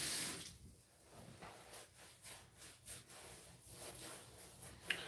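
Water runs and splashes in a sink while shaving gear is set to soak, a quiet, uneven trickling with soft clunks and rubbing sounds, fairly close.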